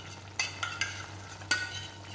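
Ground garlic, cinnamon, cardamom and clove paste frying in a little oil: a low steady sizzle broken by a few sharp scrapes and clinks of stirring, close and without talk.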